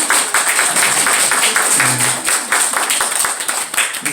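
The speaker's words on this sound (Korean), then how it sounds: "저희가 또 환영하고 축복하는 마음으로 박수 한번 하겠습니다." Congregation applause at a church worship service, welcoming visiting guests, loud and close dense clapping sustained throughout with no talk over it.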